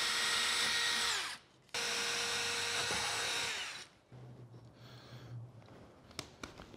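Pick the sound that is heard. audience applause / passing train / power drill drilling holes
power drill drilling holes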